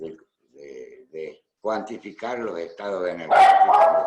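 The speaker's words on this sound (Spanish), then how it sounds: "Ese es el perro de mi mujer, el que escucharon." A poodle barks in a series of yips and bow-wows, close and moderately loud, the barks building toward the end over a man lecturing in Spanish.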